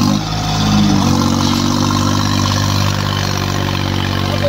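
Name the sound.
New Holland 3630 Super tractor engine, 50 horsepower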